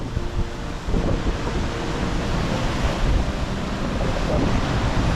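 Waves crash in below a small waterfall on the Isle of Skye, a steady broadband roar of surf and falling water with gusty wind noise, loud and continuous throughout.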